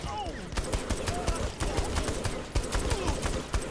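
Gunfire in the Saints Row the Third video game: dense, repeated shots crackling over a steady bed of game noise and effects, with some talk mixed in.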